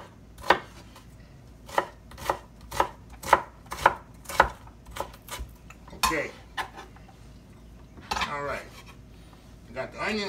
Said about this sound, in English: Onion, celery chopped up.